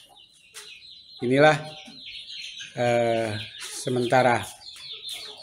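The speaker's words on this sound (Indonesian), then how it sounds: "kondisi ayam-ayam yang disinyalir ayam Birma" Burmese (Birma) chickens cluck and crow in three loud, close bursts, with someone speaking briefly between them.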